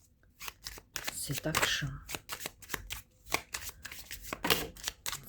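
Tarot cards shuffled in repeated quick riffling bursts, close and fairly loud, while someone talks over and between them.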